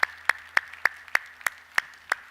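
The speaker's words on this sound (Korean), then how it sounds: "우리 하나님께 영광의 박수 합시다." Slow, evenly spaced claps from a church congregation, about eight sharp strikes in just over two seconds, fairly faint with a steady low hum underneath and no talk.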